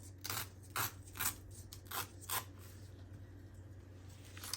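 Paper torn in several short rips along a ruler edge, five or six quick ripping bursts spaced unevenly over a steady low hum, close and fairly loud, with no talking.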